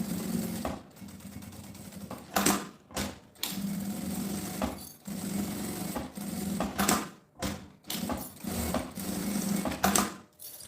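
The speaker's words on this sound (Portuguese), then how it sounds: "então vamos fazer aqui a costurinha na beiradinha" A home sewing machine stitches a seam along the edge of a fabric school bag. The steady close mechanical whir runs in bursts, with short pauses and thumps as the fabric is adjusted.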